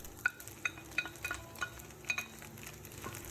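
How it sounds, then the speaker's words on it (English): Rice frying with egg, vegetables and sausage in a pan, a soft steady sizzle broken by light scraping clinks of a utensil stirring every half second or so, close and fairly quiet. "Gently mix everything together and continue frying for another 2 to 3 minutes until the rice and ingredients are fully cooked."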